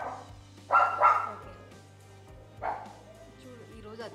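Dogs bark close by indoors, two quick barks followed by a single later bark, each short and sharp over a low steady background hum.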